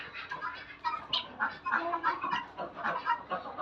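Guinea fowl and chickens kept in a home garden, clucking and chattering in a busy, overlapping flurry of short calls close by, with no talk over them.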